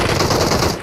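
Dense, loud automatic gunfire from the mobile battle royale game PUBG Mobile, a continuous burst of rapid shots filling the short moment with no voices over it.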